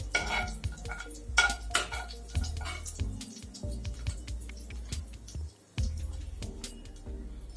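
Mushroom masala ingredients are lightly fried in a pan, with a spatula clattering and scraping against metal and a soft sizzle underneath the repeated stirring.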